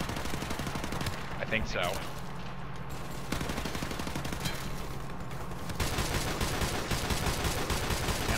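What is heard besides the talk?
gunfire from video game Call of Duty Modern Warfare Remastered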